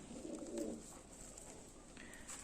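A soft, low pigeon coo rises briefly near the start, then fades into a quiet, steady outdoor hiss.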